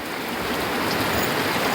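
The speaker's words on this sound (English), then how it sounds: "There is a heavy rain and thunderstorm." Heavy rain from a thunderstorm pours down on a campsite tent in a dense, constant hiss, drumming steadily on a nearby surface without a break; no thunder comes through.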